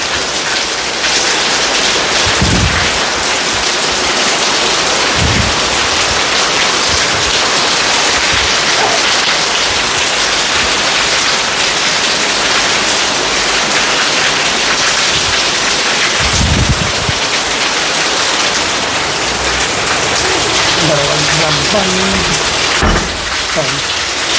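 Heavy rain hammers down beside a house bordering a forest, a loud continuous roar broken by a few low thuds and rumbles, with faint voices briefly audible near the end.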